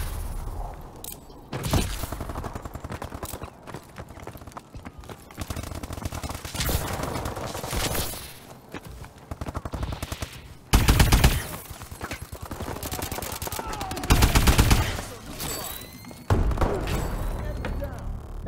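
The AE4 DLC weapon fires in a video game in several sharp bursts and single shots, loud and punchy, spread across the stretch with quieter gaps and a voice speaking between them.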